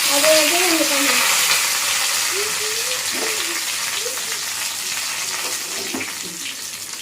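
Dried red chillies and curry leaves sizzle and crackle steadily in hot oil for a South Indian paruppu kadaiyal tempering, a close, continuous frying hiss with faint stirring and a few soft tonal sounds in the background.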